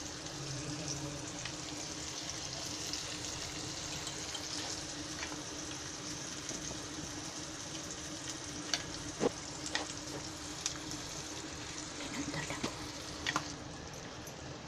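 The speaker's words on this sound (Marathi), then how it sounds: "मच्छी सर्व तेलामध्ये सोडून झालेली आहे" Catfish pieces sizzling in hot oil in a pan for a simple Marathi-style fry with kokum masala and salt, a faint, even frying hiss with a few small pops and clicks, no talking.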